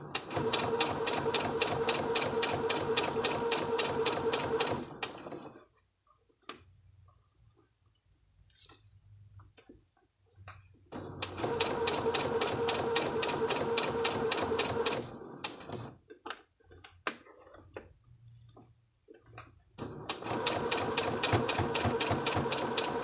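A sewing machine runs in three sustained bursts of rapid, even stitching, stitching in the ditch on a garment seam, with quiet pauses of faint handling and clicks between runs.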